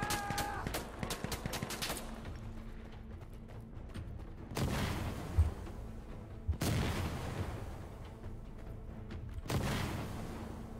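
Gunfire in the tactical shooter game Insurgency: Sandstorm, with several bursts of shots and heavy booms that suggest incoming mortar fire, arriving in loud broadband blasts separated by quieter stretches of rumble.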